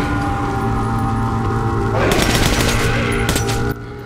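Assault rifle fire in Metro Last Light Redux comes as a loud automatic burst of rapid shots over a steady hum of background noise, then cuts off abruptly.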